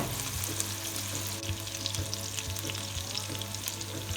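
Softened onions frying in a pan with spices for chicken achari, a loud, dense, continuous sizzle heard close up with a steady low hum underneath.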